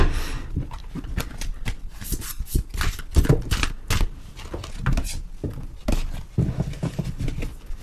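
Oracle cards being shuffled by hand at close range, a rapid irregular run of soft slaps, flicks and riffling bursts with no talking.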